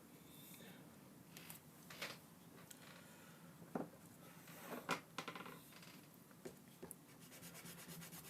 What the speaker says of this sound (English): whenever I rub something out now, the entire bloody table shakes